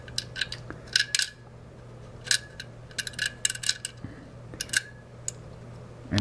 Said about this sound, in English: Now you're going to take these machine screws and put them through the holes.